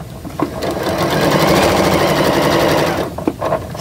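A sewing machine runs one steady stitching run of about two and a half seconds across quilt fabric, with faint handling sounds before and after.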